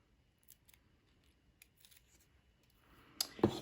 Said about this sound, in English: this little piece of ribbon is going to be added to the front, but I have to cut it down